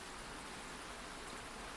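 Steady, even rain hiss fills the whole moment at a faint, constant level, with no voices or other distinct sounds.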